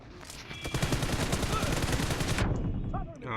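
Rapid automatic gunfire in a multiplayer shooter video game, a loud, continuous burst of shots lasting a couple of seconds, then stopping abruptly before faint game effects follow.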